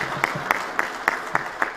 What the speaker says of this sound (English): let's give a big round of applause to Hezron Ngosa as he comes through now